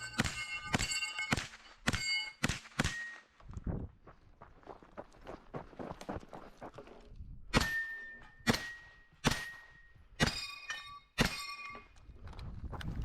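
A KE Arms KP-9 pistol caliber carbine firing at steel targets outdoors at a brutality-style match, sharp shots followed by ringing pings of steel in quick bursts, with pauses between strings.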